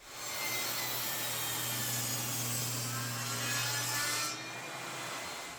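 A saw cuts an inch off a 2x4 wood board, a loud steady rasping stroke that runs on for about four seconds before a brief dip and continues, close to the mic.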